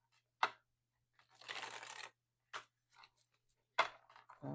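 A deck of tarot cards is shuffled in quiet short bursts: sharp riffles and a longer flutter of cards, close and fairly soft, with no voices.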